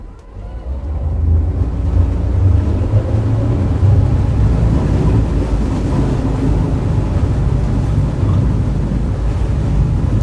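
A Beneteau Antar outboard cruiser moves sideways on the water, its motors giving a low steady drone mixed with wind and water noise, rising at the start and then holding constant.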